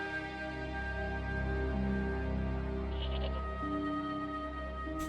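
A goat in the video game Broken Sword bleats in a long, wavering, mournful cry that holds loud and close for several seconds over a steady tonal game hum.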